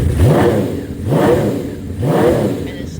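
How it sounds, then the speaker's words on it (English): A motorcycle engine is revved three times in a row, each throttle blip rising sharply and then falling back, loud and close with no talk. "and the salesman revved it."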